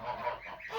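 Birds in a poultry pen honk loudly and close by in a brief burst of overlapping calls, with no talking.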